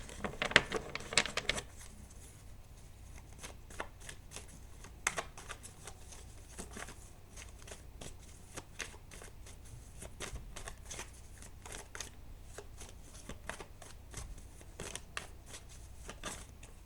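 A deck of tarot cards is shuffled by hand: a quick riffle at first, then a long run of soft, irregular card taps and flicks, close and quiet, with no one speaking.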